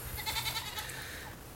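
Goats in a buck pen on a one-acre farm bleating in a quick run of wavering cries, moderately near but quiet, with no talking.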